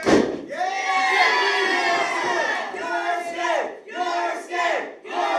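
A wrestling crowd at an Imperial Wrestling Entertainment show roars and cheers loudly, with a sustained swell of shouting voices that rises and falls in repeated surges.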